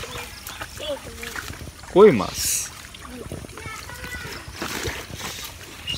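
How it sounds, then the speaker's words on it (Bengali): Footsteps splash and slosh through shallow floodwater in a mango orchard in a rural village during the rainy season, with a louder splash burst near the middle, under intermittent nearby talking. "আম বাগানে পানির মধ্যে হাঁটতেছি।"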